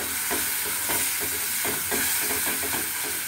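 Spice paste for a fish roe curry is stirred in a hot pan, giving a steady close sizzle and hiss with repeated scraping strokes of the spoon, with no talk over it.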